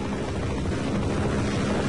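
A helicopter in Half-Life drones continuously with a dense, steady rotor roar, loud and unbroken.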